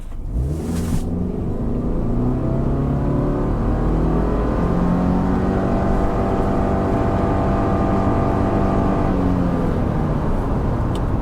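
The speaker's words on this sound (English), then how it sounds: "I want to show you guys another 0 to 60, but this time I'm not going to brake boost it." A 2025 Subaru Forester Touring accelerating from 0 to 60 mph without brake boosting, its engine a loud, continuous drone and rumble that climbs smoothly in pitch from inside the cabin, with no speech.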